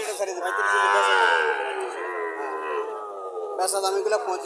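A bull calf lets out one long, loud, drawn-out moo at Chandimura cattle market in Barura, Comilla. A voice starts right after the moo fades.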